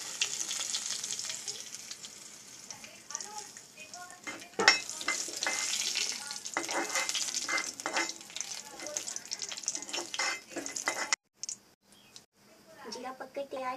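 Cumin and chillies frying in oil in a kadai, a steady loud sizzle with stirring clatter throughout, briefly dropping out near the end, while a person talks over it.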